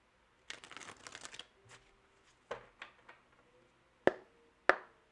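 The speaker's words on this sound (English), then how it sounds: "All right, last shuffle here." Tarot cards shuffled by hand in a quiet room, a burst of riffling flutters followed by a few softer card slaps and two sharp taps as the deck is squared, close and fairly faint.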